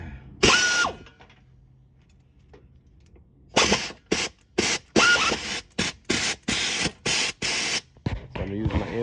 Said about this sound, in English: I'm about to use my 5/8 socket with an impact wrench.